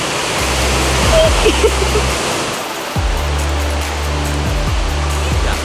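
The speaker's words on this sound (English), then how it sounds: "You can get low down, very close to the waterfall" Loud, constant rush of falling water close by at La Paz Waterfall Gardens, Costa Rica, with a low droning hum underneath that drops out briefly and returns.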